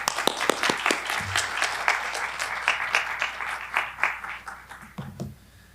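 An audience welcoming poet George David Clark breaks into warm, sustained applause, many hands clapping at a brisk, uneven pace that fills the room and thins out at the end.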